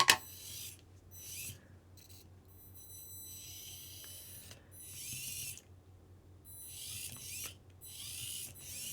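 A tiny 1:100 SNT 370Z Atom-Q micro RC car's electric motor whirs in high-pitched bursts as it is driven forward and reverse, a thin whine starting and stopping several times over a faint background hum.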